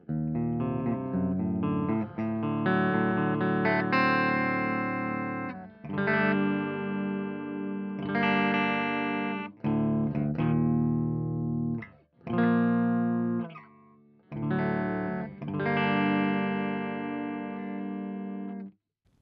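Electric guitar played through a Randall RX120RH 120W amp with a clean, undistorted tone, strummed chords ringing out in bursts with short pauses between them.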